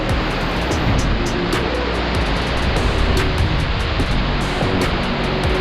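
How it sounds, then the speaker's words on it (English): Jogini Waterfalls near Manali in the monsoon roar as a dense, steady wash of falling water heard close, with sharp splashes and spray crackles rising throughout and no talk. "We tried to move near to the waterfall."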